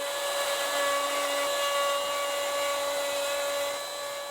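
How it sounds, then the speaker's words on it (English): Bolt holes are cut into a kitchen worktop with a power tool guided by a Trend KWJ700 worktop jig. A loud, close, continuous motor whine holds a steady pitch with a bright harmonic tone, easing slightly near the end, with no speech. "So now we've cut the bolt holes"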